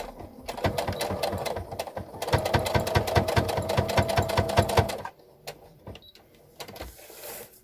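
A domestic sewing machine stitches a fabric tab on a girl's spring dress, its needle clattering in fast steady bursts with one brief pause, then it stops and gives way to quieter handling noises.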